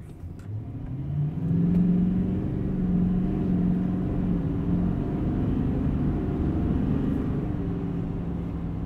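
A 2020 Chevy Silverado 2500 Duramax diesel truck pulls hard, its low engine drone swelling as it accelerates and then holding a steady rumble, heard from inside with no talking.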